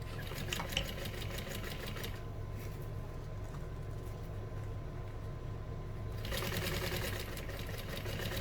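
Sewing machine stitching a bag 1/8 inch from the edge, running steadily and continuously close by with a whirring, rapid needle rhythm, the motor slightly easing midway before picking back up.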